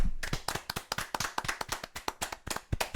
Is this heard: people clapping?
yes